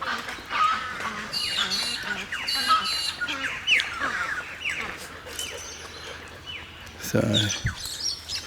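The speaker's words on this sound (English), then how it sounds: "3 crows over there that she's interested in." Birds squawk and chirp repeatedly at a bird sanctuary, with crows among them, harsh calls near and far under a few spoken words.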